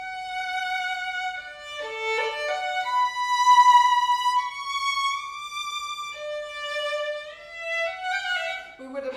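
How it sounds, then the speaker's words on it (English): A solo violin plays a slow melody, its notes sliding audibly between pitches as the player shifts, clear and close with no other sounds. "this is the sound of a shift"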